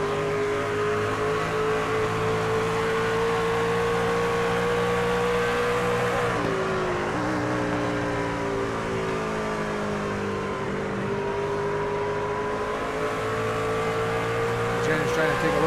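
Racing trucks roar around an oval in a Tuesday night truck series race, a steady dense engine drone with pitch rising and dipping as the pack passes, loud and continuous throughout under a commentator's voice.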